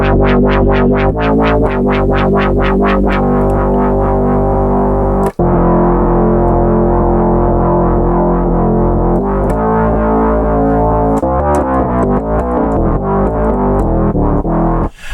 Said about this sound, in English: up to this point we created this basic, type of bass sound